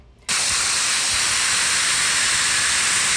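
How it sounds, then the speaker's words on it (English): A Wagner FLEXIO 5000 paint sprayer kicks on and sprays cleaning solution, a sudden, loud, steady hiss that starts abruptly and holds constant until cut off at the end. "Spray the cleaning solution in a safe area, shaking the spray gun gently to loosen any material trapped inside"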